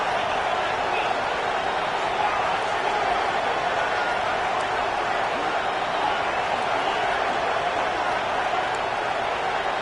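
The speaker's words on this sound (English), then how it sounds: "the crowd roaring, trying to make it difficult" A football stadium crowd roars continuously through a tense late-game moment near overtime, a dense, loud, sustained wash of cheering voices with no breaks.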